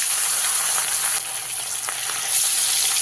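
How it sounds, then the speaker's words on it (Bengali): Pieces of rohu fish frying in hot oil for a masala fish curry, giving a loud, dense, even hiss of sizzling that carries steadily throughout with faint stirring underneath. "কি মাছগুলো সব ভালো করে ভেজে নিই"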